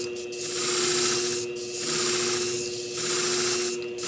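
A grooming shear blade is sharpened on a flat plate in long, even strokes, four rhythmic gritty swishes close by, each separated by a brief pause.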